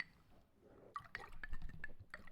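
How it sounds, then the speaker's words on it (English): Water pours into a glass, a quiet gurgling trickle with small clinks and bright drips, close and soft, no voices over it. "This has been the sound of water pouring."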